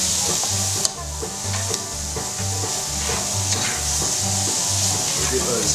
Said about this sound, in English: Get those onions all moving around.